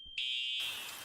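A loud, steady high-pitched alarm tone sounds continuously, then gives way to a harsh hissing wash of noise.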